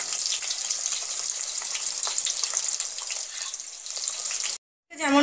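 Soya chunks being lightly tossed in a pan over a low flame, giving a steady, close sizzle with soft stirring scrapes that cuts off briefly near the end.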